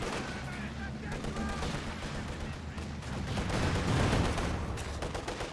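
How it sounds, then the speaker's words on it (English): Tank cannon fire and combat from a T-70 light tank in the real-time strategy game Company of Heroes 2, heard as repeated bangs and battle noise over a steady rumble, swelling louder toward the end. "T-70 now firing away"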